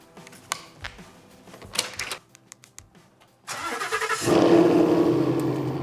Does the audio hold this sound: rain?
no